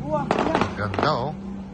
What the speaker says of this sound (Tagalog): Putukan na.